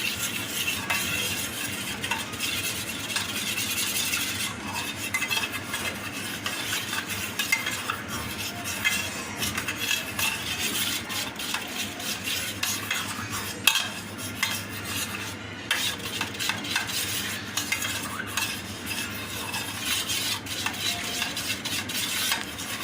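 Milk and yogurt stirred together in a bowl to make homemade yogurt, a steady close scraping and swishing of a spoon going on without a break, with light clinks against the sides.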